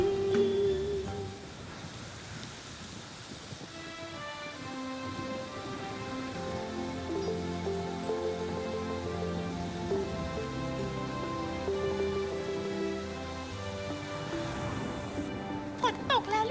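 Steady rain hisses through a scene of a Thai period television drama, a constant soft wash under music and voices.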